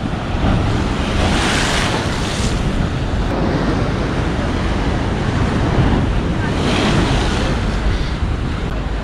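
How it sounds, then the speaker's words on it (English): Waves surging and crashing onto a stone shore at Chania on Crete, a loud, continuous roar with two swelling breaks over strong wind noise on the microphone. "never saw waves getting up on the stone here"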